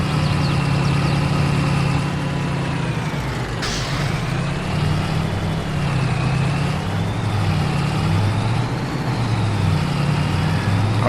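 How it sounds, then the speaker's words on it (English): A tractor engine in Farming Simulator 22, a loud steady low diesel drone with a rhythmic throb and a brief hiss near the middle, continuous and close with no talking. "But I need to take a tractor back to the other farm."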